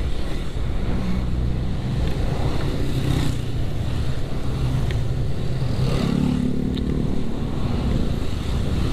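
A motorcycle ridden along a quiet rural road in Kuningan, Indonesia, gives a steady engine drone mixed with heavy wind rush at the microphone, unbroken for the whole stretch, with no talk.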